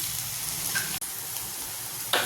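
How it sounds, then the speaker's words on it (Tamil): Gobi manchurian cauliflower pieces deep frying in hot oil give a steady, close sizzling hiss with scattered small pops and a brief bubbling burst near the end, no voices. "இப்போ அதை ஒன்று ரெண்டாக போட்டு ஃப்ரை பண்ணி"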